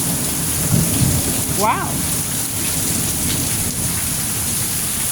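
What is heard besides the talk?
rain and thunderstorm outdoors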